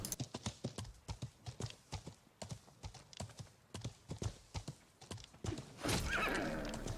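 In the medieval game Life is Feudal, a horse's hooves clip-clop in a steady trotting rhythm, then a loud whinny rises near the end, all fairly close and clear.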